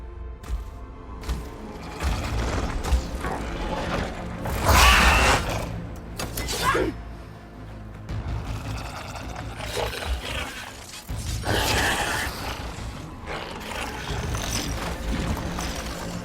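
Mechanical machine creatures ridden by Lancers in Horizon Forbidden West clank, creak and grind with metallic crashes and a roar-like surge, dense and busy throughout, with faint game dialogue underneath.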